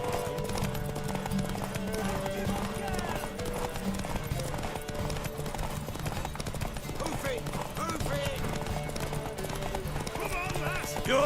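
Horse hooves clip-clopping during a horse race in The Witcher 3 video game, a steady trotting rhythm running throughout beneath continuous game music and voices talking.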